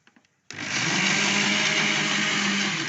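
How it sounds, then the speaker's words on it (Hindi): A mixer grinder runs at full speed, grinding a spice paste of onion and garlic, starting abruptly after a brief quiet moment and then holding a loud, steady whirring roar right to the end. "और एक दफ़ा इसको फिर दोबारा पीसेंगे तो ये अच्छी तरह मसाला इसमें मिक्स हो जाएगा"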